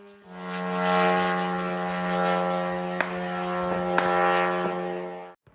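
An Iranian-made kamikaze drone flies overhead, its propeller engine giving a loud, continuous droning buzz that rises, holds for several seconds, then cuts off abruptly.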